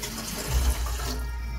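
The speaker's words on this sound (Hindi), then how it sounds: "मैं इसमें पानी डाल रही हूँ" Water poured into a cooking pot in a home kitchen, a short splashing gush that swells briefly and then settles into a steady trickle.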